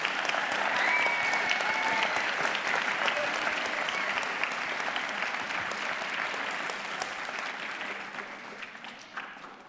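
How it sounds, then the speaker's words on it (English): A large audience applauds steadily at a youth town hall in Simi Valley, sustained dense clapping that holds for the whole stretch with a few cheering voices on top before slowly tapering near the end. "Let's give them another round of applause."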